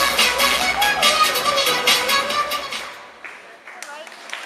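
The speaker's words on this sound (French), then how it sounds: "Et on l'applaudit encore." Japan Expo cosplay audience clapping for a Sona Arcade cosplayer, a dense burst of applause under a host's voice that thins out and stops near the end, leaving scattered taps.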